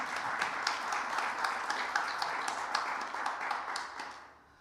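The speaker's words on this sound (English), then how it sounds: "Can we give him another round of applause?" An audience at a celebration and ceremony applauds, a fairly faint, distant wash of many hands clapping that holds steady for several seconds and then fades out at the end.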